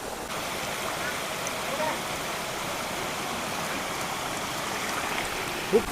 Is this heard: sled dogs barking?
no